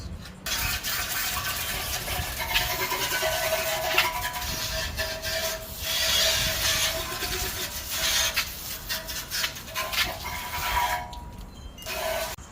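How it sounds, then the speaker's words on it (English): A Brillo pad sponge scrubs a car's rear bumper support with continuous rough, gritty rubbing strokes, close and fairly loud, swelling and easing in rhythm and stopping briefly near the end. "I'm going to start off with the Brillo pad sponge first, and then I'll go ahead and do it with the brushes."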